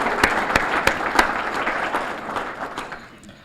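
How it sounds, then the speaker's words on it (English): Audience applause at a town State of the Town address, a dense wash of clapping with a few sharp individual claps standing out, steady and fairly close before tapering off toward the end. "let's give our Q Chamber members and sponsors a big round of applause"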